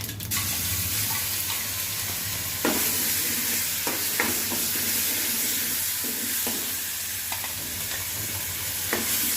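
Curry leaves crackle and sizzle in hot oil for a tempering, a steady frying hiss with stirring scrapes and sharp pops scattered throughout, close and continuous.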